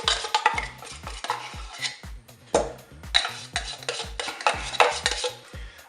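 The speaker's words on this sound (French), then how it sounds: "Je vais mettre une cuillère pour prendre ce qu'il y a au fond." A spoon scraping condensed milk from the bottom of a salad bowl, heard as rapid, rhythmic scrapes and clinks against the bowl. The sound is close and clear, with no voices.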